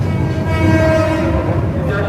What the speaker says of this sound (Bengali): ট্রেনটি 1 নম্বর প্ল্যাটফর্মের 1 নম্বর লাইনে এসে প্রবেশ করেছে